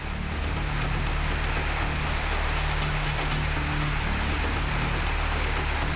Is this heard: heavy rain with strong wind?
yes